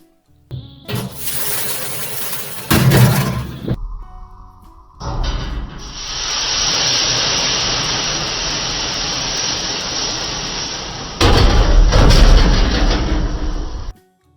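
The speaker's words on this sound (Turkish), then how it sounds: "sıcak suyu kenardan ve tek seferde döküp fırın kapağıyla tepsiyi itekleyerek fırını kapatıyorum" Hot water poured in one go onto a hot oven tray while baking sourdough bread, followed by a loud, steady steam hiss lasting several seconds. Clattering bursts of the tray being pushed and the oven door shutting come before and after.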